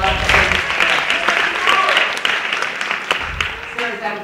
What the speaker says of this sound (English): Let's give Sarah a nice round of applause.